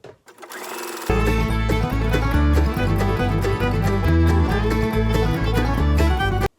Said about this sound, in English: now I'm going to do a fix, and I'm going to do a straight stitch all the way around